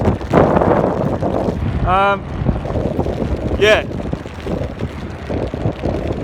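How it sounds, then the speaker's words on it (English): Strong wind buffets and roars at the top of a shipping crane at Port Botany, loud and continuous against the microphone, with a brief voice and a couple of short sharp tones breaking through. "It's getting pretty blowy and pretty windy up here."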